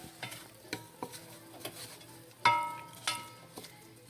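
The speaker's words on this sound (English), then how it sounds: "We want them to be sauteed till they're translucent and wilted" Onions sautéing in a pan, a soft sizzle broken by a series of close spoon or spatula knocks and scrapes at an uneven rhythm, no talking.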